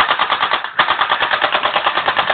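Rapid gunfire from a handgun crackles in a steady, loud stream of shots, a brief pause near the start before the volley resumes and continues without any voices.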